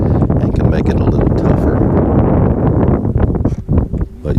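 Wind gusts outdoors along a river among bluffs and bends, a loud, constant rushing buffet close to the microphone with a person talking through it.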